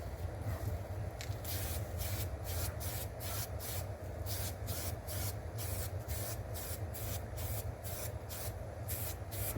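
Spray paint goes onto Kawasaki Vulcan motorcycle parts in repeated short hissing bursts with a steady rhythm, faint and even against a low background hum.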